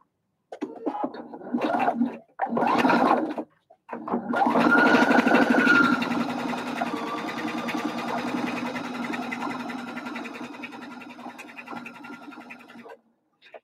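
A sewing machine stitches a fabric seam with a half-inch allowance on a cinch bag. After two short bursts, a close, steady mechanical whir runs for nearly nine seconds and then stops.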